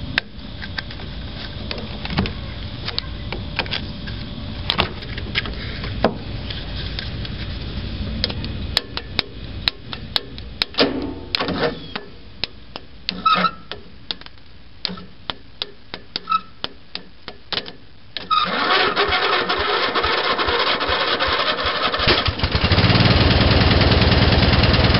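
A spare riding lawn mower engine cranks in uneven bursts with sharp mechanical knocks, then catches and settles into a loud, steady close-up running roar for the last several seconds.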